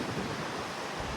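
Strong wind buffeting across an open cruise ship deck in the middle of the ocean, a steady broadband roar with low rumbling gusts and no pauses, close to the microphone throughout.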